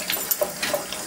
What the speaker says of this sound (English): we're just going to put some water over it